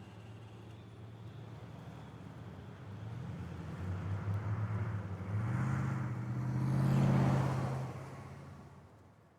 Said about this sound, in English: The squeaking and groaning of the old car, the engine,